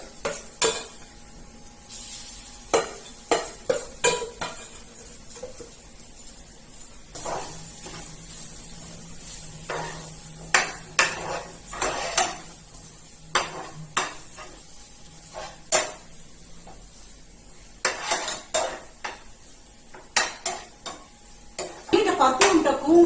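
Ground matoda dal mixture being sautéed in a pan, with repeated scraping and clinking of a spatula against the metal, bursts of stirring over a faint background sizzle, and brief talk in between.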